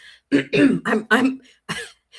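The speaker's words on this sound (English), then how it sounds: "I'm just kind of clearing my throat." A close, loud series of four or five guttural throat-clearing bursts in quick succession, then a softer final one.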